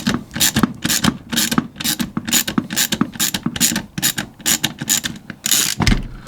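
A ratchet screwdriver backs screws out of a Bosch PST 650 jigsaw, giving a rapid run of close, loud clicking ratchet bursts in a steady rhythm.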